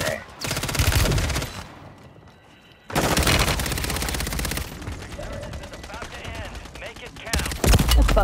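Mortar strikes and automatic gunfire in Call of Duty come in loud, dense bursts separated by brief lulls, the heaviest volleys at the start and middle, with a fresh burst at the close.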